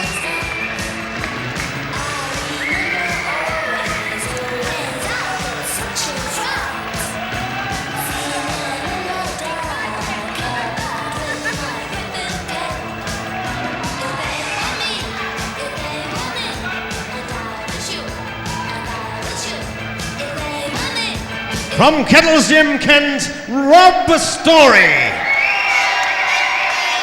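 Indoor boxing crowd at a South London leisure centre cheering and whooping for a Kent fighter, steady murmur under an announcer's voice that swells into louder shouts near the end.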